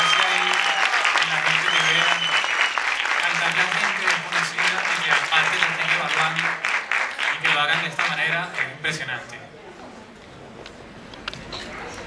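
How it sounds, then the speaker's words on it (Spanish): A talent-show audition crowd claps steadily in sustained applause, with voices over it, then the clapping thins out and fades near the end. "Yo pido que le den un fuerte aplauso."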